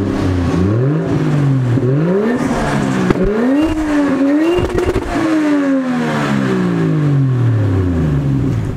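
A car engine revs repeatedly through a homemade exhaust pipe, loud and close, each rev rising and falling in pitch, finishing with a long drawn-out drop as it settles.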